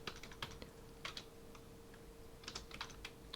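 Quiet typing on a computer keyboard while entering a spreadsheet formula: scattered light key clicks in short bursts over a faint steady hum, with no talking.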